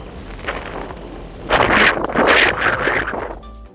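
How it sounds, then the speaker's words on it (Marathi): Strong wind gusts roar across the microphone under cloudy skies in Konkan, India, swelling loudly midway and buffeting in bursts, with a low rumble underneath. "जोरदार वारा सुटलेला आहे"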